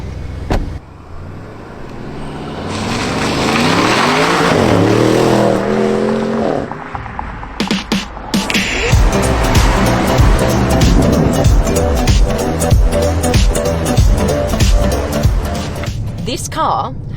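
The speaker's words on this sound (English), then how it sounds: "This car has a twin turbo V8 with 600 horsepower." Audi Q7 with a 600-horsepower twin-turbo V8 pulling hard on a road, engine note rising through the gears while a person talks over it throughout.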